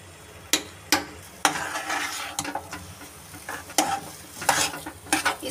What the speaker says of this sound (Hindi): इसको कर लेते अच्छे से मिक्स